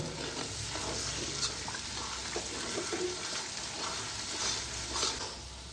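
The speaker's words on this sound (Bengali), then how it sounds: "এগুলোকে ভালোভাবে কষিয়ে নেব।" Chicken masala with five slit green chillies being sautéed in a pan, a soft, steady sizzle with occasional stirring scrapes, fairly quiet and continuous.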